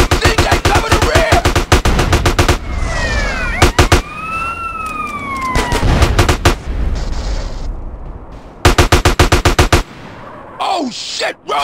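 Rapid bursts of automatic gunfire in GTA San Andreas crackle in long volleys, loud and close, separated by pauses where wailing sirens sweep and voices are heard in between.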